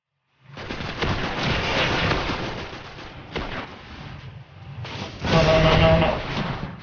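Grenade blast in the shooter game Destiny during a player-versus-player match: a dense roaring wash of gunfire and explosions, with a louder burst swelling near the end over continuous battle noise.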